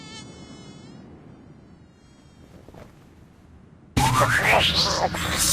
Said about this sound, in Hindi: ये मच्छर।